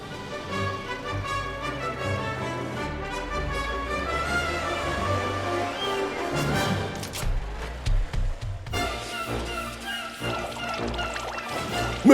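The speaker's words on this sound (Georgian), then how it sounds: "ცხელა, ახლა ცივ წყალს დავლებდი." Cold water pours and splashes at a car wash in an animated cartoon, a continuous liquid rush heard under music and other sounds, with a brief louder burst near the end.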